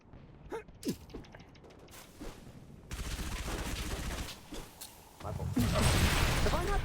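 Rapid SMG gunfire in Halo 3: ODST on the Coastal Highway level, bursts of dense crackling shots with game effects, growing louder toward the end, with a voice briefly audible at the start.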